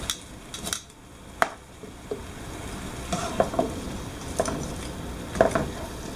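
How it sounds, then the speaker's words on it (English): Tongs stirring chicken and Brussels sprouts in a frying pan, giving a soft steady sizzle with a few sharp metallic clacks and scrapes against the pan, close up and without talk. "I'm just going to take our tongs and try to mix"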